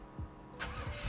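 1966 Chevelle with a GM crate 383ci stroker engine starting, a brief faint cranking and catch heard up close with nothing else over it.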